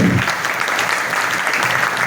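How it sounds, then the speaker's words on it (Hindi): Audience at a birthday celebration for Padma Shri Prabhakarrao Vaidya breaking into steady, full applause, a continuous wash of many hands clapping in a hall at an even level, with no talk over it. "आप जोर से तालियां बजाएं,"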